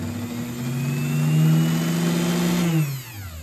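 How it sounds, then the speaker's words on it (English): Dremel rotary tool spinning a small sanding drum while clamped in a vise, a steady high whine that swells slightly then spins down near the end, close, with no talk. "I got that little drum and I got it set up in the Dremel"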